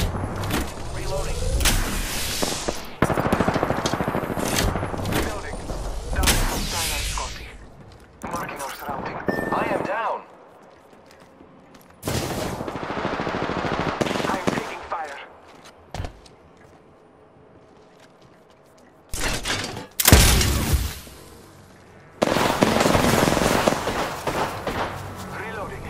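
Repeated bursts of gunfire in the battle royale video game Apex Legends, loud clusters of shots separated by quieter gaps, with some in-game voice lines.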